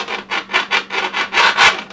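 A kitchen knife draws slowly through tough pieces of beef and yam for soup, giving eight or so rhythmic, close rasping strokes with short pauses between them and no talk.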